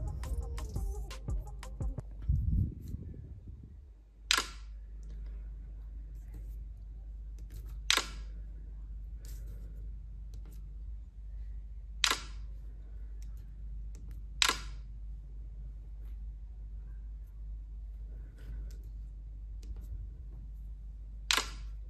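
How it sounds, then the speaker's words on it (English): Short clicky lock and unlock tones in the style of an iPhone, set on a Samsung phone, repeat about every two to three seconds over a steady low hum. Each is crisp, close and brief, with no talk. "yeah, little bit lock sound has delay, but unlock sound is perfect."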